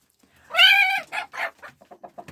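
A chicken gives a loud drawn-out squawk followed by a run of short, quickening clucks, close up and alone.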